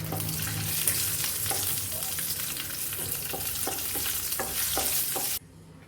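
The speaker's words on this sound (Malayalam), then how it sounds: "കശുവണ്ടിയും മുന്തിരിങ്ങയും ഒന്ന് ഫ്രൈ ചെയ്തെടുക്കാം." Cashews and raisins frying in ghee in a pan, a loud continuous close sizzle with repeated light clicks and scrapes of stirring, cutting off abruptly near the end.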